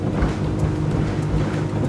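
A Whittley aluminium boat runs trimmed up at 6,200 RPM and skips across the water, with a loud, steady motor drone and rushing wind and water. No one speaks.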